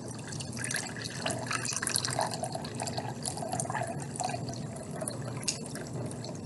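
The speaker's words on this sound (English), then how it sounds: "I'm going to pour out the water in the container that the water was in originally." Water splashes and spatters steadily, like liquid being poured out of a container, with dripping sounds throughout and no voices.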